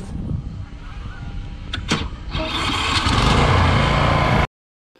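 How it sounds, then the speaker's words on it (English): A Toro Timemaster push lawn mower runs while mowing in the rain, its engine building from a rough idle to a loud, steady drone close to the microphone before cutting off abruptly. "We got the push mowing with the Timemaster."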